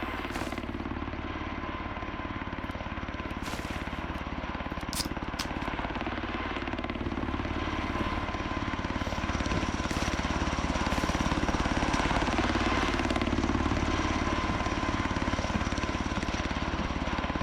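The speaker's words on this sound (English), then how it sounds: "I would love it if there was a mod or something that made it so the helicopter just disappeared as soon as you killed 10 enemies." Helicopter flying overhead in the video game Road to Vostok, a steady, loud rotor drone with deep thumping that runs unbroken throughout, with occasional faint clicks and no talk.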